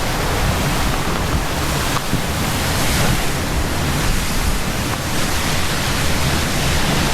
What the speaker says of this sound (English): There's a ton of water coming out of there.